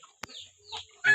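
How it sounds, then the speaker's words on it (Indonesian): A Philippine breed chicken at a poultry seller gives a few short, close clucks with quiet pauses between them, ending in a louder burst of squawking. "Ini Filipin ayam saung."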